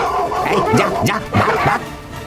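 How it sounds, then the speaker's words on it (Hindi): A pack of dogs barks and yelps in a loud, overlapping clamour, several voices close together and agitated, with rising whines between the barks. "अचानक कहीं से एक झुंड कुत्ते आकर परम पर टूट पड़े"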